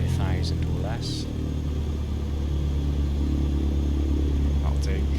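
A light aircraft engine in Microsoft Flight Simulator 2020 drones steadily with a low rumbling hum while throttled down, under a voice talking throughout.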